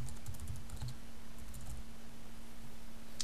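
Keystrokes on a computer keyboard while filling in a price and keywords for an ad on a farming website, a quick irregular burst of light clicks early on, then sparser taps over a steady low hum.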